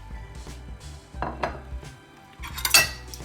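A plate and other dishes clink and clatter in a kitchen after rice is taken out of the microwave, with several sharp, close knocks and a brighter ringing clink near the end.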